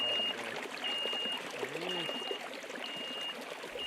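Water trickles and gurgles steadily through Hendry's, a small stream, a soft, close, continuous flow with a few faint tonal chirps above it.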